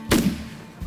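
A single loud shotgun blast goes off during a goose hunt, a sharp close boom with a short decaying tail, followed by quiet outdoor background.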